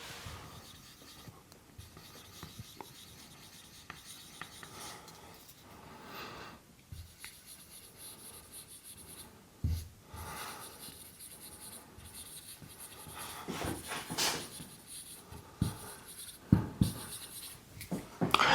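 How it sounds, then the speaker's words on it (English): Pen scratching across paper in quiet, soft irregular strokes that build to a few louder scrapes toward the end, with no talk. "let me write it and then I will tell you"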